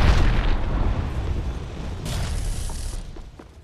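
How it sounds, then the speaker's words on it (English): A grenade explodes in the Apex Legends video game, a loud low boom with a rumbling tail that fades over a few seconds. "Whoa! Grenade!"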